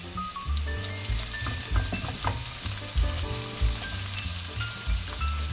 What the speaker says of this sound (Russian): Шипение.